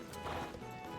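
In a video game, a horse's hooves clip-clop at a steady pace as it climbs a hill, with game music and ambience underneath.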